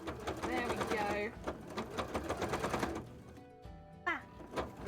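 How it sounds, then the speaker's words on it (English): A home sewing machine runs in a fast, steady whir of stitching, stops, and then gives a short electronic beep, with a person talking over part of it. "my sewing machine is deciding to beep half the time when I stop sewing"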